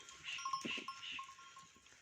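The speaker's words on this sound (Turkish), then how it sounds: "Sürü, keçi sürüsü bu." Faint bleats from a herd of Maltese goats and sheep drift in from a distance, mixed with soft clinking bells and low background noise.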